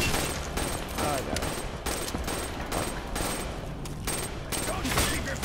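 Rapid bursts of automatic gunfire from a weapon in a zombie video game, set in an Illuminati temple, crackling in repeated volleys with short gaps, loud and close throughout.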